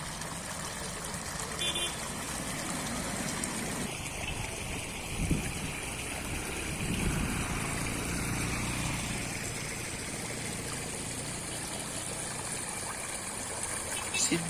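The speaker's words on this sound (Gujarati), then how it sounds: "અને સીધું પાણી અહીંયા જોઈએ તો ભાદર નદીની અંદર છોડી આપવામાં આવે છે।" Chemical-laden wastewater pouring from a pipe into the Bhadar river, a steady trickling, gurgling flow under a low engine hum, with someone talking over it at moderate distance.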